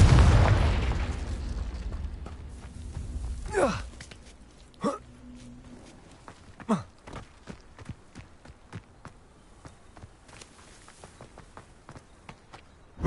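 A Confringo spell explosion from the Hogwarts Legacy video game opens with a loud booming blast that rumbles and fades, followed by scattered sharp pops and light footsteps.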